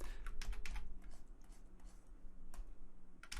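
Computer keyboard keys clatter in quick clusters of close, light clicks with short pauses between, over a low steady hum while working in ZBrush 2023.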